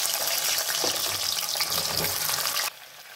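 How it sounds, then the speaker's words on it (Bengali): Boiled potatoes fry in a wok with a dense hissing sizzle that runs loud and close, then cuts off abruptly near the end, leaving only quiet room noise. "যাই হোক, আলুটা ভেজে নিচ্ছি"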